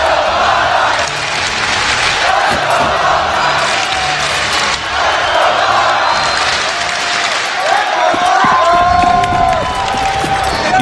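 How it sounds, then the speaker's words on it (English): A packed arena crowd at the CS:GO ELEAGUE Boston Major 2018 final on Inferno roars in a sustained, loud wall of cheering and shouting that swells and pulses throughout, with a caster's voice over it. "Listen to this crowd!"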